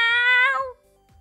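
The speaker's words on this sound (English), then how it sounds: "so he's been making this sometimes like really disgusting meow" An orange cat lets out one long, loud, drawn-out meow close by, then falls quiet, with faint soft thumps underneath.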